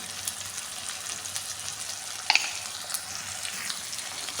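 Ginger-garlic paste, tomato and onion fry in a pan for a breakfast upma, making a constant soft sizzle broken by one sharp utensil clink midway.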